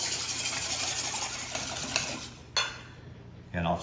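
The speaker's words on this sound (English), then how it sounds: "And we're just gonna beat up those egg whites now." Egg whites being beaten in a bowl in a home kitchen, a soft continuous scraping and whisking with a few louder clinks against the bowl, fairly close and with no talking.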